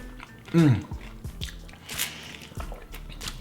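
Close crunchy bites and wet chewing as people eat vegan chilaquiles, one loud bite near the start followed by softer mastication, with brief talk mixed in.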